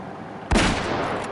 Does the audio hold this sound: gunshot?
yes